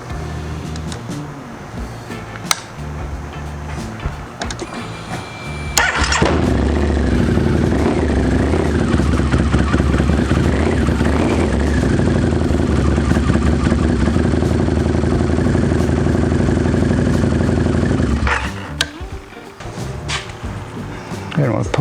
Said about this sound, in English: Now I'm going to start the bike so that we can circulate the oil through the engine and through the filter